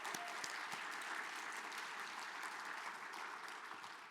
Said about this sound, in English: Let's give Harold a round of applause also.